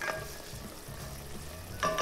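Onions sauté in hot oil with a faint, soft sizzle that runs quietly throughout, rising slightly near the end.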